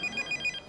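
A small telephone rings in short, evenly spaced bursts, about four quick chirping rings in under a second, fairly close and alone with no talk.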